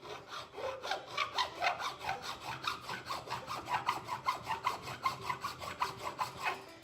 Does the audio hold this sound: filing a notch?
yes